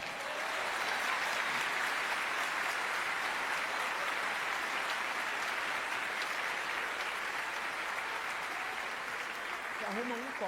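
A church congregation claps in a sustained, dense burst of applause that fills the space evenly, loud and continuous throughout, with a voice briefly rising at the very end.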